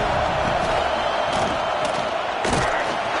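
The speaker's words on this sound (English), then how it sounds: "This crowd ready to make its presence known." A stadium crowd roars in the College Football 26 video game, a dense, constant wall of cheering with a few sharper bursts of noise, loud and unbroken throughout.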